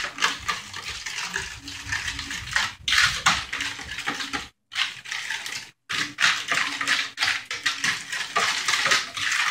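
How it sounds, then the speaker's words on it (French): Ingredients being stirred together in a heart-shaped bowl for dèguè, with sugar added, giving steady scraping and clinking of a utensil against the bowl, close and continuous, with two brief pauses. "Puis on mélange le tout."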